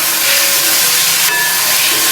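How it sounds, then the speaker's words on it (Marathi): Water poured into a hot pan of frying onion-coconut masala for dhaba-style egg curry, giving a loud, steady sizzling hiss that fills the whole moment, with no talking. "इथे मी 1 ग्लास छोटा पाणी टाकणार आहे"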